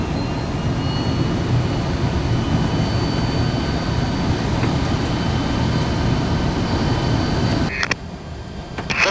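A TransAer Airbus jet airliner on landing approach gives a loud, steady broadband engine roar that holds for most of the stretch, then drops away abruptly near the end.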